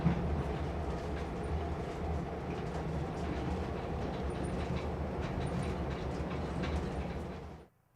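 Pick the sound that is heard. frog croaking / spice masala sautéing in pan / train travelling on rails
train travelling on rails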